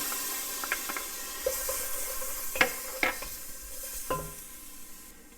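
Onions, vegetables and minced garlic sauté in a whole wheat roux for a crab stew, a soft continuous sizzle broken by several brief scraping stirs of the spoon against the pot, close and fairly quiet.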